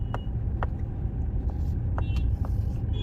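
Manual-transmission car pulling away after shifting into second gear with the clutch released on a road, a steady low engine rumble close by with a few faint clicks and knocks over it.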